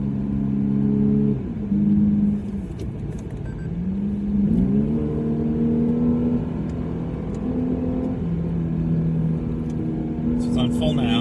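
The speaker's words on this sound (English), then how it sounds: "We'll test out the active sound control and drop a few gears here." A 2016 Lexus RC350 AWD F-Sport with active sound control on full drones from the cabin as it pulls through gear changes, engine pitch rising and dropping, with someone talking over it.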